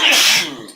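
A single short, sharp sneeze bursts out close by and fades within a second, and a voice follows briefly.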